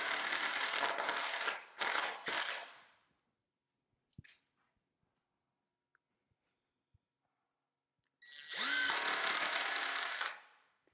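Power drill driving screws into pre-drilled wood while building a trailer brace, heard as two close, loud bursts: a stuttering run of short pulses, then a quiet gap with faint knocks, then one longer steady whir.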